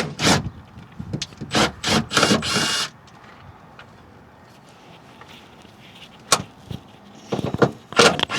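Rubber weather stripping being pulled and scraped out of the sunroof opening of an R53 Mini Cooper, with several loud rasping tugs, a quiet pause, then more sharp scraping pulls.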